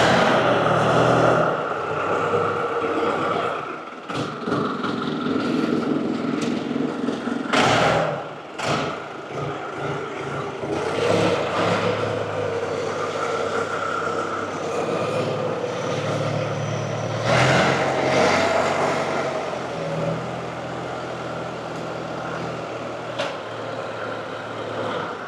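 A tractor's engine runs steadily as it is driven about, a low continuous drone with occasional knocks and thumps and brief louder bursts, heard alone at moderate distance.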